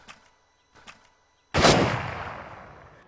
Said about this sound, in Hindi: फायर, फिर से, फायर, और एक बार।